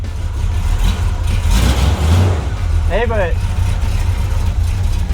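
A carbureted 1978 Corvette Pace Car engine runs steadily up close with a low, rumbling idle throughout, while people talk over it.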